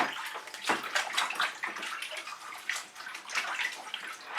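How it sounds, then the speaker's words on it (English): Hands sticky with acrylic pouring paint are rinsed under running water from a tap, a steady rushing stream with splashes and gurgles, fairly quiet and uninterrupted. "Rinse my hands off really quick because that was messy."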